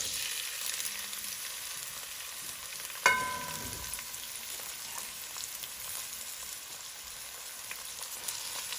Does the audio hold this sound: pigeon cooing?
no